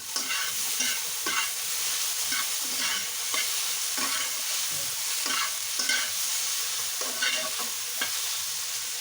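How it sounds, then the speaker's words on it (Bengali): Cauliflower pieces frying in a pan are stirred after the lid is lifted, giving a steady bright sizzle broken by repeated soft scrapes and shuffles of the spatula, close and without talk. "ঢাকনাটা তুলে নিয়ে কপিগুলো নেড়ে নেব"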